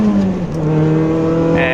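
A supercharged 1987 Toyota MR2 AW11 engine revs hard and climbs in pitch with a steady supercharger whine, loud and close throughout.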